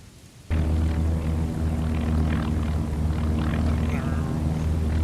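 Slow-moving propeller planes in the naval combat game Task Force Admiral, set at Midway, give a loud, steady engine drone and low rumble that starts abruptly and holds throughout, with faint voices underneath.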